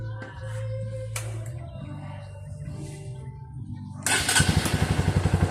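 A Honda CRF150 motorcycle engine is started after underneath wiring work, catching with a loud, close, rapid chugging idle in the final seconds after a quieter stretch of hum and clatter.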